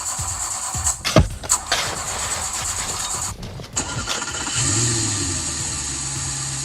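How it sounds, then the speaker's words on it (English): A car engine cranks and starts, then settles into a steady idle, standing in for a spaceship's engine; the cranking is choppy and uneven before the steady hum takes over. "I used car sound effects for the ship"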